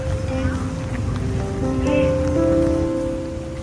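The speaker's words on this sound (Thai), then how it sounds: "เดี๋ยวขอมาไหว้เจ้าก่อนขอให้ฝนหยุดตก" Heavy rain beats steadily on a street-market food stall selling fried pork dumplings, giving a dense, close patter with murmuring voices underneath.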